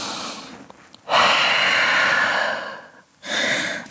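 Deep, audible breaths taken during a yoga flow while holding downward dog pose: a long breathy exhale, a short pause, then another breath beginning, close and clear with no talking.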